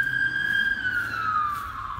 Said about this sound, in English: we had the ambulance coming down